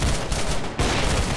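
Revolver shots ring out in a Roblox game, loud and close, a dense run of blasts filling the first stretch, a brief dip, then more heavy firing.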